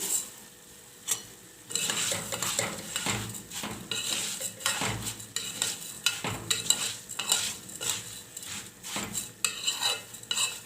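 Vermicelli is fried and stirred in a metal pan, with a continuous sizzle and rapid, rhythmic scraping and clinking of a utensil against the pan, loud and close with no talking.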